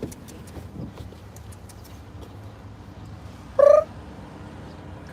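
A cat gives one clear, loud meow after a stretch of soft, steady purring and low background rumble, with the start of another meow at the very end.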